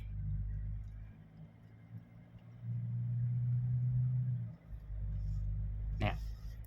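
Tank 300 SUV engine hums with a low, steady rumble while driving, swelling louder for a couple of seconds mid-drive and settling back, with a brief higher noise near the end.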